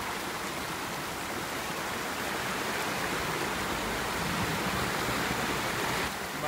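A river in Loubiere, Dominica rushes steadily and close by, a broad continuous wash of flowing water with no voices.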